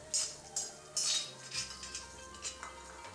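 Fried cashews scooped from a pan into a bowl with a metal spoon, a few quiet clinks and scrapes of metal on metal in an irregular rhythm, close and faint, with no talk.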